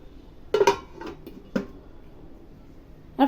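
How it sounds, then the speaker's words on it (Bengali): A lid clatters onto a pot of chicken curry in a home kitchen: a loud metallic clank, a lighter knock about a second later, then another clank at the end, with quiet gaps between. "চিকেনটাকে ঢাকা দিয়ে দেবো"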